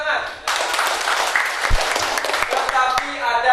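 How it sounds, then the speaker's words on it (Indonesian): Students clap together in a classroom during an Indonesian lesson, a short burst of dense, close applause with a few sharper claps standing out. "Ya, bagus, tepuk tangan"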